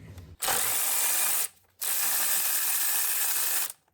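A ratchet wrench loosens a bolt on the intake manifold of a 2011–2019 Ford Explorer, its rapid clicking pawl running in two loud, close bursts separated by a short pause.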